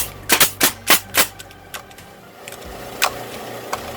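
A refurbished Husky DP2118G brad/crown stapler bump fires, giving five sharp, close pneumatic snaps in quick succession followed by a few fainter clacks over a low background hum.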